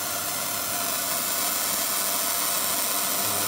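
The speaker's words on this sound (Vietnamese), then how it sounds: "Đấy, quạt sẽ chạy." A 100V burner's blower fan runs in a steady, broadband rushing whoosh with a faint mechanical hum underneath, loud and constant throughout with no voices.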